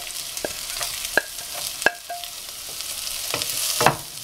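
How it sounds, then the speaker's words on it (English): Onions with ginger and garlic sautéing in a pan, giving a soft continuous sizzle broken by scattered scrapes and clinks of a stirring utensil, fairly quiet and heard on their own. "Now at this time we are going to add our onions."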